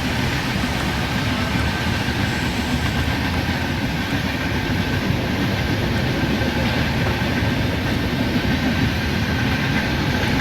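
Duronto express train in the Indian Train Simulator game, running steadily at speed with a continuous dense rumble and faint rail clatter throughout, loud and even with no talk.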